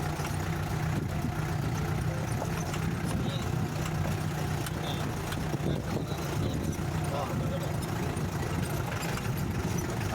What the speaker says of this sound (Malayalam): ബൈക്കേ കോൺക്രീറ്റ് വഴി കൊണ്ടുവരുന്നുണ്ട് ബൈക്ക് ഇന്നലെ പോലെ